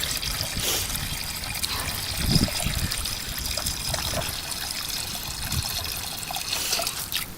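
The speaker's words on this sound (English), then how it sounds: "make sure you fill it up with fresh water" Fresh water trickles and dribbles steadily into a chicken waterer on a winter chicken-duty round, a continuous close liquid stream with a few louder splashy pulses and no voices.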